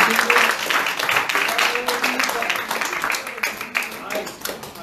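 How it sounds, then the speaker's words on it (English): A church congregation claps hands in praise, a dense, continuous burst of many hands throughout, with voices calling out over the clapping. "Give Jesus a hand clap of praise."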